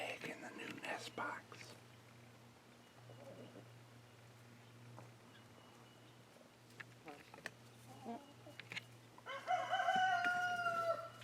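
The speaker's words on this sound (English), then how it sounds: "Number 2 is laying an egg in the new nest box." A tiny hen laying an egg in a new nest box, faint clucks and shuffling under quiet whispered talk, ending in a louder burst of cackling.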